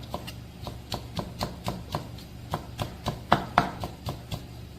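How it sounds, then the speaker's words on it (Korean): A knife slices food diagonally on a cutting board in a steady series of crisp chops, close by and moderately quiet. "어슷하게 이렇게 썰어가는 것만 보여주시면 돼요"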